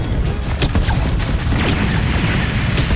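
Dense, continuous gunfire and booming blasts from the Roblox game Base Attack, loud and unbroken for three seconds, with no voices.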